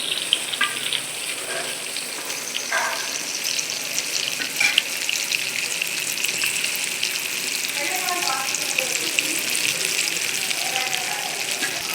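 A village-style fish curry bubbles and simmers steadily in a pot, giving a continuous hissing, frothy boil with a few faint stirring scrapes throughout.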